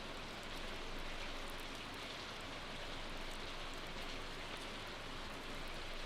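Rain in the Stardew Valley game, a constant soft wash of falling rain with faint droplet patter, even and unchanging throughout, no voices.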